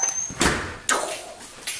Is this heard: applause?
no